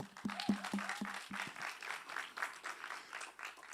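An audience at a Reporter Slam event bursts into applause, a dense wash of clapping that carries on steadily, opening over a few low electronic beeps.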